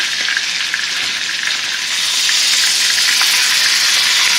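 Expensive steaks sear in a hot pan, giving off a loud, constant hiss and spatter that swells a little louder as the meat is flipped, with no talk over it.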